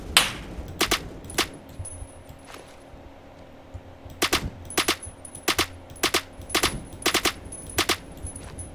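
Gunfire in the Roblox shooter Phantom Forces: a single shot, a couple of spaced rifle cracks, then several sharp bursts of quick repeated shots, loud and close over a low steady game background, with no talking.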